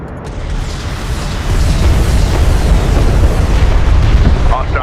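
Enemy airstrike in the desert real-time strategy game Homeworld: Deserts of Kharak, heard as loud, continuous rumbling explosions that swell partway through and keep roaring to the end.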